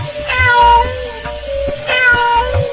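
A cartoon cat meows twice, clear and close, in a Diwali comedy cartoon scene with firecrackers and a rocket, each meow drawn out with a short gap between.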